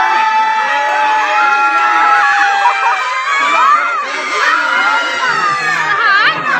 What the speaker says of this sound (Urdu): یہاں پر بچے اتنی زور زور سے چیخ رہے تھے